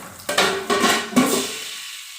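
A metal lid set onto a pot of popcorn kernels on the stove, giving three clattering metallic knocks in quick succession, close and fairly loud, then silence.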